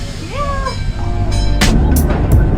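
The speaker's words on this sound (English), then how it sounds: "we're about to ride on the trolley" An East Troy trolley ride in Wisconsin has a steady low rumble of the car rolling along, with a brief whistle-like tone and a few sharp bursts of noise near the end, while voices chatter faintly.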